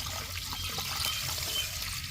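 Water poured into a heated cooking pot while making an oil-free soup, a steady close trickle and splash running without pause and no talk over it.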